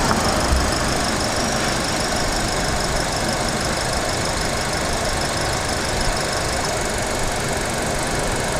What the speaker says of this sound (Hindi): मैं आपको अभी दिखाता हूँ कि इंजन नॉइस कैसे आ रहा है